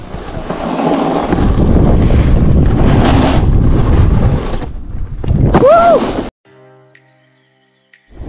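Loud, buffeting wind roars across the microphone outdoors on a chilly, windy day at a snowboarding area, then cuts out abruptly into near silence.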